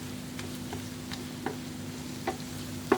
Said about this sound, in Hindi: चम्मच को हम इस तरह फिर से मिक्स कर देंगे इसको।